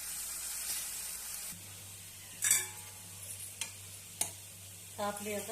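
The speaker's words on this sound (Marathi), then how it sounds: "आता तेलावर आपल्याला फुल गॅसवर एकदम नरम करून द्यायची आहे फक्त भाजी आणि कांद्याची पात एकदम छान शिजू द्यायची" Spring onion greens and chopped vegetables sauté in oil over a full flame, a steady soft sizzle with occasional stirring scrapes and brief louder bursts, close by, with a few quiet words spoken over it.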